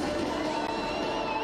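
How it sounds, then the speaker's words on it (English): A crowd at a Formula E race podium in Punta del Este, Uruguay, cheers and claps in a dense, continuous wash of noise with scattered shouts and whoops. "A round of applause."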